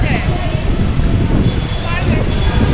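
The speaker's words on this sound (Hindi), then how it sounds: "बाप रे इतनी तेज हवाएं, इतनी हवा।" Strong gusty wind blowing outside a shopping mall during a storm, a steady loud roar buffeting the microphone throughout.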